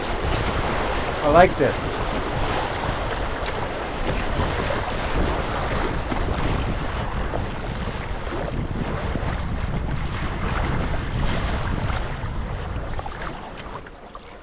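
River current on the Petawawa in Algonquin Park flowing around a kayak, a continuous rushing wash mixed with wind buffeting the microphone, with brief speech near the start.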